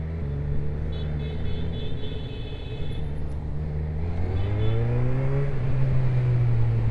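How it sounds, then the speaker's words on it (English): Road traffic heard from a Honda CB1000R motorcycle, with car engines droning close by and one vehicle's pitch rising as it accelerates past, all under a constant loud rumble. "Oh boy, there's more traffic."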